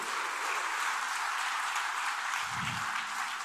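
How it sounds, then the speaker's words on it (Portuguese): Steady, dense applause from a ceremony audience at the WorldSkills opening in a large hall, continuous clapping with a brief low voice briefly underneath. "Um grande aplauso."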